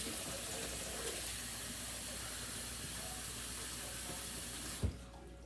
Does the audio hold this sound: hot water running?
yes